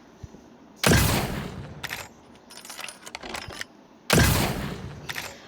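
Musket gunfire in the Blox Fruits video game: two loud, sharp shots about three seconds apart, each with a short ringing tail, with lighter clicks and rattles between them.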